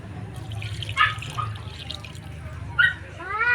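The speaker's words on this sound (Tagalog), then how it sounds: "Yan nga po, nilagdagan na po natin ng tubig." Water poured into a pot of native chicken tinola with native papaya, a soft liquid splashing and trickling, with brief brighter splashes near the middle and end, fairly close and moderately quiet.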